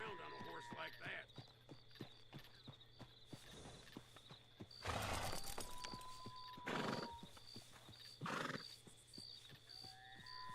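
A horse in the video game Red Dead Redemption 2 clip-clops along with a steady hoof rhythm and whinnies a few times. Game tones and ambience sit underneath, and a person talks over it.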